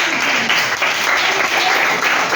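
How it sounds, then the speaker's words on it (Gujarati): A group of children claps hands together in dense, continuous applause, loud and close, with a faint voice mixed in. "તાળી પાડો."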